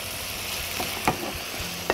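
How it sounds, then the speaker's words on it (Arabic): Onions sizzle softly in a hot pan while cooking kefta, a faint steady hiss broken by a couple of sharp clinks and scrapes from utensils against the pan. "خليني هنا انزل البصل بتاعي اهو"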